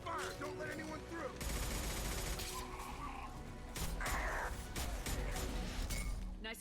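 Sustained suppression gunfire from a firefight in the video game Mass Effect 2, dense and loud throughout, with bursts, crashes and mechanical clatter layered over a heavy low rumble and brief spoken lines mixed in.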